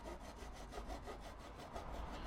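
Hand saw trimming wooden splines, steady rhythmic back-and-forth rasping strokes, close and fairly quiet, with no talking.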